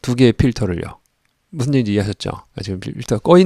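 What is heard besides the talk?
No distinct noise like a dog, phone or traffic.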